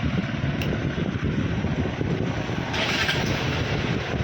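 A repaired vehicle engine runs at a steady, dense rumble close to the microphone, with a brief rise in intensity partway through and no talk over it.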